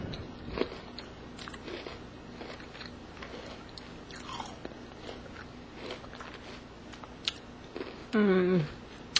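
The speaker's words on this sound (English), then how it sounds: "I will have myself some very delicious homemade almond roca" Crunchy bites and chewing of homemade toffee with almonds and chocolate, close and fairly quiet, with scattered crisp cracks and a brief voice-like hum near the end.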